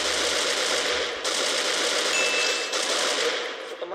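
Rapid automatic gunfire in a video game rattles loud and close in long unbroken bursts with brief pauses, no talking.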